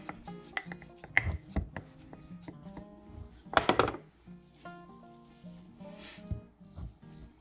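A wooden spoon knocks and scrapes inside a jar of ground beef being packed for canning, giving soft irregular taps and clacks close by, with one sharper thump near the middle and no talk.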